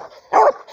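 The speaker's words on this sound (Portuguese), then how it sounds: "Os cachorros." Dogs out hunting tegu lizards in scrubland give one short, close bark, a brief sharp burst amid quiet.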